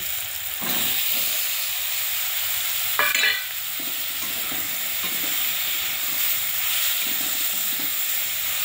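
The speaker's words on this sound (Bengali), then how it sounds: "আলুটা দিয়ে আমি বেশ কিছুক্ষণ হাতে সময় নিয়ে আলুটা ভেজে নেব।" Potatoes added to browned onions in a pan sizzle steadily and loudly, with a burst of stirring and scraping about a third of the way through and no talking.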